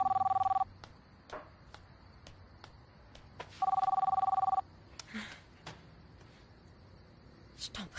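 Telephone ringing with an electronic bell tone in two bursts, the second about three seconds after the first, fairly loud with quieter room sounds in between.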